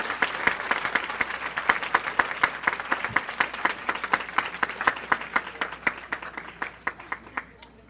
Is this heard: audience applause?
yes